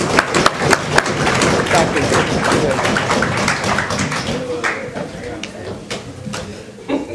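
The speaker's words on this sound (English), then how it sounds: "Give yourselves a final, hearty round of applause." An audience at a national youth parliament sitting gives a sustained round of applause, dense clapping that runs the full stretch and thins slightly toward the end, with a few voices mixed in.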